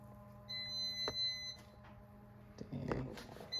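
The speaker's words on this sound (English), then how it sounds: "it's beeping because due to the fact the car's not on" Steady electronic warning tone from a parked Dodge Challenger with its engine off, sounding in a sustained high beep under background noise and a brief bump of handling sounds.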